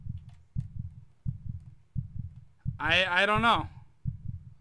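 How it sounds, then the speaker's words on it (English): Heartbeat sound effect in the horror video game Hypno's Nightmare: steady, low double thumps repeating about every three-quarters of a second, with someone talking briefly over the middle beats. "So I'm hearing heartbeats right now."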